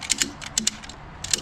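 A ratchet strap being worked around logs, its mechanism giving a quick series of sharp, light mechanical clicks in short bursts, close and alone.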